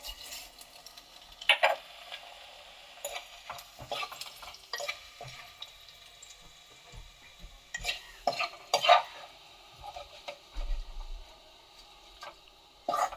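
Flattened rice (chira) fries in a little oil in a pan over a low flame, with a soft steady sizzle and scattered scraping stir strokes and clinks, a few sharper scrapes standing out, with no talking.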